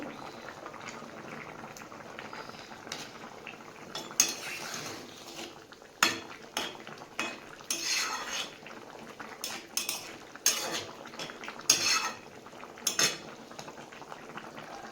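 A vegetable curry bubbles in a pan with a low, steady simmer, broken by repeated scrapes and clinks of a metal spoon against the pan as it is stirred, close and moderately loud.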